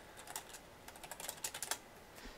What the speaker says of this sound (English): you'll be able to hear like everything that's happening on my keyboard